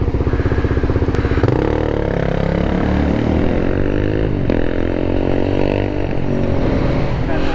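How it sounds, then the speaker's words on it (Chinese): A Suzuki 400 SM dirt bike's single engine runs loud and close, revving with rising and falling pitch sweeps and a sharp throttle blip partway through. "越野摩托。"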